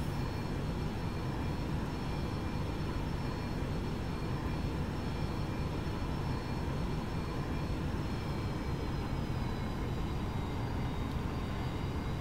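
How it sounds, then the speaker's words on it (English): Simulated Boeing 737-800 climbing after takeoff from Las Vegas in X-Plane 11, with a steady, even jet engine drone and faint whining tones holding throughout, and no one talking. "That's all what you have to do for the takeoff, and autopilot is gonna handle the rest."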